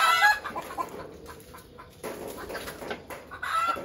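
Phoenix and onagadori chickens cluck in short bursts, close and moderately loud, with a couple of higher calls mixed in and no talking.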